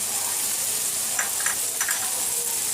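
A steady hiss of oil frying in a pan with okra for masala bhindi, as green and red chili paste goes in. Faint stirring scrapes rise briefly over the constant close sizzle.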